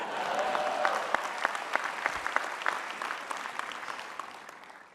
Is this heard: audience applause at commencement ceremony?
yes